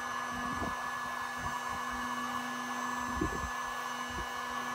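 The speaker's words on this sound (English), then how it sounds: "I just need to heat gun and shrink like so" A heat gun blows a steady, close airflow hiss while shrinking heat-shrink tubing over labels on audio and lighting cables, with a few soft handling thumps along the way.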